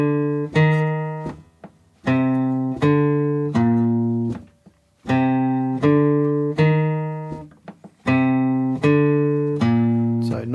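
Electric guitar in standard tuning playing an opening line: clear sustained picked notes in phrased groups with short rests, loud and alone.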